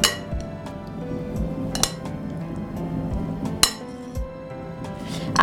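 Cooked rice for vegetable biryani is mixed in a metal pot, giving a steady scraping under a few sharp clinks of a spoon striking the rim, close and clear.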